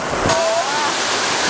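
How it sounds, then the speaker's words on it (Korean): Water pours down in a loud, rushing cascade from a push-button waterfall effect in the Czech Republic, a steady hiss of splashing that fills the whole moment. "이걸 누르시니까 물이 위에서 쫙 쏟아지는데 깜짝 놀랐어요"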